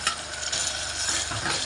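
Tomatoes fry in a pan for a cluster bean and sesame curry, giving a constant close sizzle with scraping and clinking as they are stirred, without any talk.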